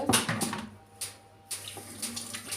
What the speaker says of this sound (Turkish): Ellerimizi yıkayalım.